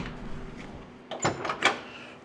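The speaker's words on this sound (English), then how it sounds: "doors open wonderfully" The door of a 1968 Chevrolet C10 pickup with an LS3 swap opens with a few quick, close latch clicks and a soft thunk over a quiet background.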